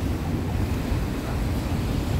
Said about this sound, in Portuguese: a força da água é tanta que vai removendo a areia, né, da praia